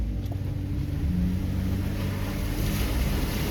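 A Jeep ploughs through a big water hole on a wooded creek trail, giving a continuous loud rush and slosh of water over a low engine drone, steady for several seconds with no talk.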